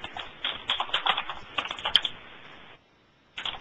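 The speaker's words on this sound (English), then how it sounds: "someone has his microphone open, not saying anything and typing loudly" Loud, rapid typing on a computer keyboard from an open microphone during an online session, with dense bursts of clacking keystrokes, a brief pause, then more typing; no one speaks.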